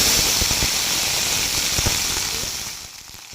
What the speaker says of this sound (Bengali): ভেন্ডিগুলোকে এখন একটু সময় নিয়ে ভালো করে লাল লাল করে ভেজে নেব